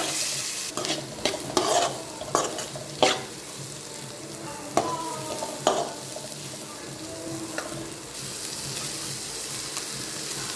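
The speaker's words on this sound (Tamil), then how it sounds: "ஒரு வாட்டி இந்த ஸ்பைசஸோட வெங்காயத்தை மிக்ஸ் பண்ணிக்கலாம்" Onion is stir-fried with spices in a pan for a green gram gravy, giving a string of spatula scrapes and knocks over a steady close sizzle that continues alone near the end.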